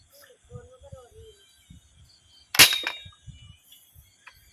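A slide gun fires a 10 mm steel ball with one sharp, loud crack partway through, followed by a brief rattle, while quiet voices and small handling sounds are heard before and after the shot.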